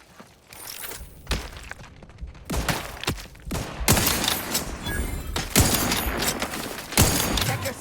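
Gunfire in The Outer Worlds 2 comes in loud, repeated bursts and heavy shots, separated by brief lulls, with impacts and thuds mixed in.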